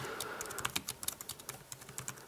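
Fingers type rapidly on a Logitech K811 illuminated Bluetooth keyboard, a close, steady stream of light plastic key clicks with irregular rhythm and no talking.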